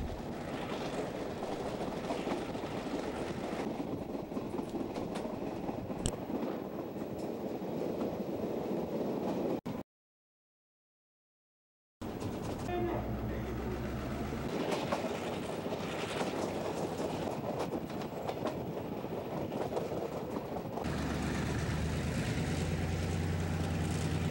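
A train rolls along poorly maintained track in Buenos Aires with a steady rumble and rhythmic clatter of wheels, broken by a brief silent gap partway through.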